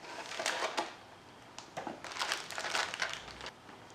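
Popin Cookin sushi candy kit packaging being torn and crinkled open, crisp plastic and paper rustles in several bursts at close range, with no talking.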